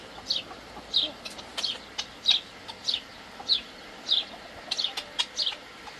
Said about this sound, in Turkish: Büyük tavuklarımız şu an zaten 8 tanesi gukta yatıyor